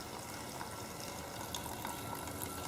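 Water draining out of a Briggs & Stratton opposed twin carburetor during a rebuild, a steady close trickle and splash that runs without a break.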